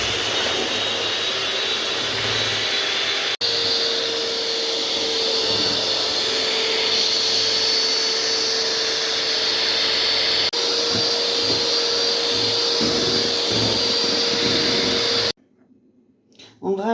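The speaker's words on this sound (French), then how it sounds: "Et on va faire monter les œufs." An electric hand mixer whips eggs with a pinch of salt for a génoise sponge, a loud, steady whirring drone running close and continuous for about fifteen seconds before cutting off abruptly.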